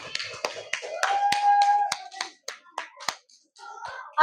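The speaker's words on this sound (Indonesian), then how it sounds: "Oke, tepuk tangan buat kita semua." A second-grade class clapping hands in a classroom, a run of sharp, separate claps with gaps between them, along with a sustained tonal note and brief bits of sound in between.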